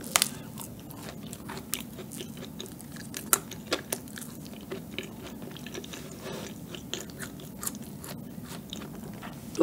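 Crunchy yet chewy Starbucks Halloween madeleine being bitten and chewed up close, a steady run of crisp crunches and wet mastication clicks alone without talk.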